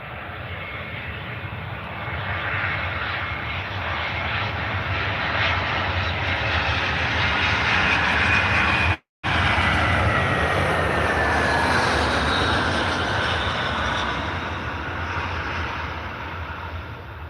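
A steady, loud aircraft engine roar in a flight video game runs through a landing, a broad continuous drone with a slowly shifting whine and a brief drop to silence midway.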